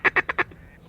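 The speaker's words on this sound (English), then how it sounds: "There's ducks over there." Ducks quacking near a stock dam in the open: four loud, quick quacks in a rapid row, then a faint trailing call fading into quiet outdoor air.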